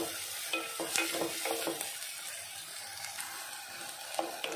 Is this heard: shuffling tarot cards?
no